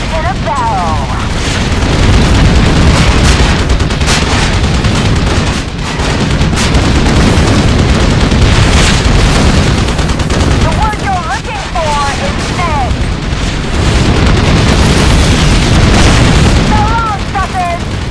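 Gunfire and explosions from the Thunder Wolves video game, a sustained loud barrage of booms and shots across the clip, with voices speaking over the action.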